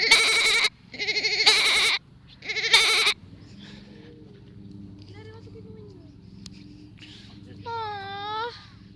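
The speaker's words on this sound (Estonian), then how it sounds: "See mõistab paremini su kitsekeelt kui need kitsed ise." Goats bleating on a farm during a trip to Saaremaa, Estonia: several loud, close wavering bleats near the start, then quieter calls and a final drawn-out bleat, with people talking faintly in between.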